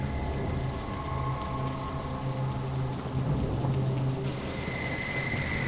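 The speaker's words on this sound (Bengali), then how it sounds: "বাইরে বৃষ্টি যেন আরো বাড়ছে, আর তার সাথে বাড়ছে হাওয়াও।" Rain falls outside with wind, a steady hissing wash with a low tonal hum running underneath, constant and moderately quiet.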